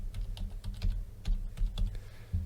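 Rapid, close clicks of a password being typed on a computer keyboard, an even run of keystrokes with no talk.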